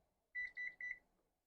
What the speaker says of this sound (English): Put the timer on them